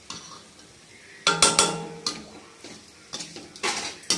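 Minced mutton keema is stirred and sautéed in a pan, with bursts of spoon scraping and clatter against the metal alongside soft sizzling, up close and free of speech.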